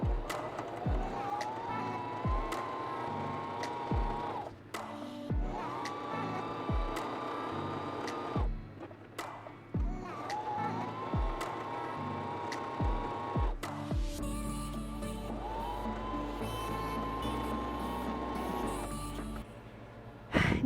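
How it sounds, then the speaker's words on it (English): Sewing machine stitching a quarter-inch seam around a fabric square for a pinwheel baby quilt, rapid mechanical whirring in several bursts separated by short pauses and clicks, close and fairly loud. "So come on, let's go to the sewing machine."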